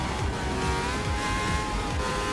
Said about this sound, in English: Makes a great noise, this Ferrari.